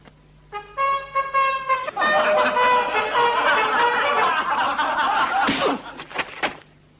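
An army bugle in colonial Bengal plays the assembly call as a few clear, sustained brassy notes, quickly giving way to loud, wavering tones mixed with laughter and a slam.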